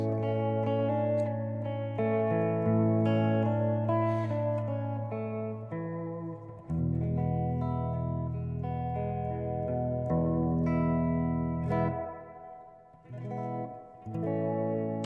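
Electric guitar notes and chords ring out through a SolidGoldFX Surf Rider spring reverb pedal with a drenched, splashy reverb, sustained tones blending and trailing off between phrases.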